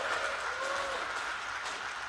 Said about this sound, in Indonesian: kita tepuk tangan buat Presiden